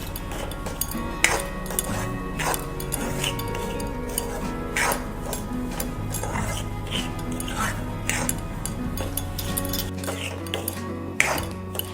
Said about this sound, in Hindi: देखिए इधर अपनी सूजी को भूनते हुए हमें 7 से 8 मिनट हो गए हैं